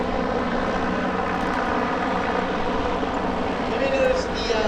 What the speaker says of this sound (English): When Adam's coming down to Wingfoot 1 for a touch and go